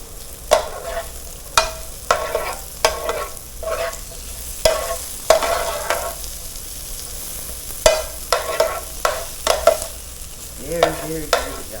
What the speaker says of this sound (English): So we're going to cook the peppers, saute those up real good.